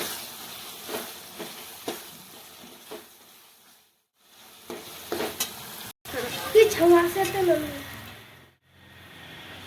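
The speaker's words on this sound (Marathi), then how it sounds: "थोडीशी हळद टाकली आहे पुन्हा मिक्स करून घेते" Mixed vegetables with turmeric are stirred in a sizzling pan, with soft scraping and frying hiss, a short pause, then a louder, busier stretch of stirring, and a voice briefly heard.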